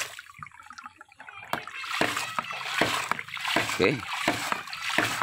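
An electric water pump in Bandung is switched on with its output tap closed, and water splashes and gurgles in a rising rush after a quiet start, while someone speaks briefly over it.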